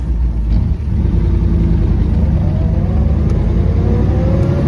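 A 1935 Ford Model 48 deluxe rumble seat coupe accelerates, its steady mid-range engine drone loud and close with a slowly rising pitch, no voices over it.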